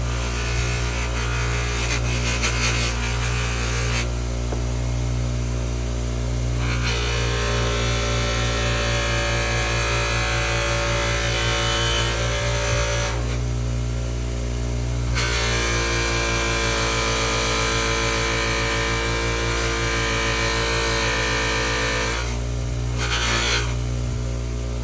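A power polisher runs continuously with brown polishing compound on a Kirby vacuum part, a loud close steady whir with rubbing texture that shifts in tone and pressure at a few points.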